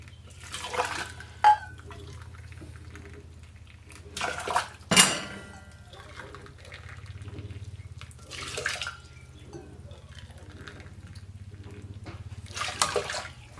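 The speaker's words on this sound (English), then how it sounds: "So I'm going to put 2 cups of water in each" Boiling water poured into pots to rehydrate dehydrated pasta for jarred mac and cheese, faint intermittent splashing pours with soft clinks of dishes against a low steady hum.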